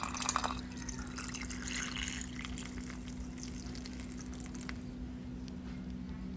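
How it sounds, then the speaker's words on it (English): Sparkling 7-Up pours steadily into a glass of fruit punch packed with fruit, a continuous close fizzing, splashing hiss under a low steady hum, with no talking. "now I'm just ready to add the sparkling 7-Up into it."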